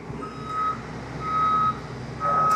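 Repeated electronic reversing beeps from a large BA44 boom lift as its axles extend, three steady tones spaced about a second apart over a low idling diesel hum.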